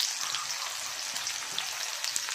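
Finely chopped onion and half a spoon of black cumin frying in hot oil in a wok, making a steady, close, rain-like crackling sizzle with tiny pops and no talking.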